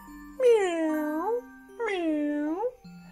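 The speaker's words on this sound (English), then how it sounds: "Stripy cat." A Baby Touch touch book plays a recorded cat sound: two clear, drawn-out meows, each about a second long, separated by a short pause and heard close up in a quiet room.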